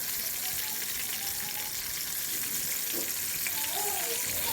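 Chakkada snacks fry in hot oil with a steady, dense sizzle and bubbling that stays close and even throughout, with no voices.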